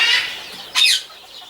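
Rose-ringed parakeets squeaking outdoors, a few shrill, harsh squeals in quick succession, fairly close and alone without talk.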